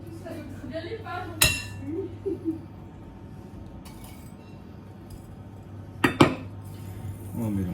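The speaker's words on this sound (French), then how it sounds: "On va mélanger." Cake batter for a gâteau breton being mixed with melted butter in a bowl, spoon clinking against the sides in a few sharp bursts separated by quieter stirring, with someone talking briefly at the start.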